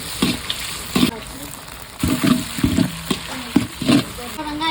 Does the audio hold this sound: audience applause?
no